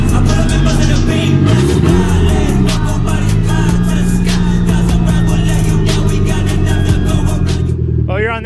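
Engine of a Mazda Miata project car running loud and close as it is driven out, a steady rumble with rising and falling revs throughout, alongside faint voices.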